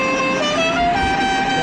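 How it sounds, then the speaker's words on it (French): A 1/10-scale RC Lancia Delta rally car fitted with an Italian-style musical horn. A short tonal melody plays with a rising pitch step, loud and close, over a little background noise. "il nous a mis l'option klaxon à l'italienne."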